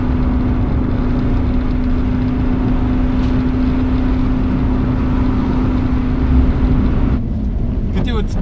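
A restored 1992 Daihatsu Charade with a 1-litre turbo diesel drives on a winter road, its steady engine drone and road rumble filling the cabin without pause, with a brief knock near the end.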